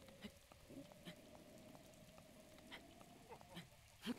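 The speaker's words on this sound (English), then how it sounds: "Why does the rain have to be so insane?" Rain falls in the video game The Legend of Zelda: Breath of the Wild, a faint steady hiss with scattered drip-like ticks and soft splats over a low game tone.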